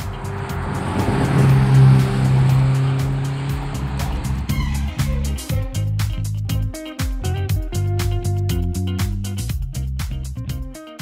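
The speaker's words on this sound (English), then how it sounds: "I've always wanted to try racetrack driving" A car laps the 2.5 km racetrack at Atlantic Motorsports Park, first a loud, smooth engine roar swelling past, then a rough, pulsing engine note with rapid changes in revs, close and prominent throughout.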